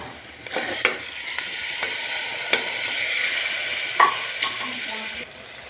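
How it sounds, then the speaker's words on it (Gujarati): Cooked moong dal poured into a pan of hot tempering gives a steady, close sizzle and frying hiss, with a few sharp clinks of the utensil along the way. "હવે આપણે દાળ રેડી દઈશું દાળ રેડું છું"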